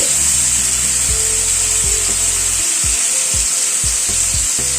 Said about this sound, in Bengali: তেলটা গরম হওয়ার পরে মাছের মিক্সচারটা দিয়ে দিচ্ছি আস্তে আস্তে করে মাছ এরকম করে বসিয়ে দিচ্ছি